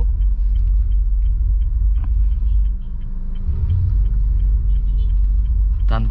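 Honda Mobilio engine idling with a steady low rumble and mild vibration as the clutch is lifted in first gear, continuous and close from inside the cabin, ending with a brief clatter.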